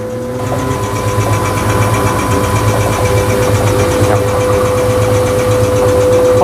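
A medium-sized rice milling machine runs steadily with its milling head engaged, producing a continuous loud mechanical drone with a strong steady hum and rattling vibration throughout, with no speech.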